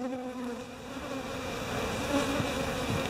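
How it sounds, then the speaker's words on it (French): Honeybees swarm and buzz while attacking a cornered European hornet, a loud, dense, sustained drone of many wings close by, swelling slightly toward the end, with no voices. "Les abeilles ont coincé un frelon européen là, elles sont en train de s'acharner dessus."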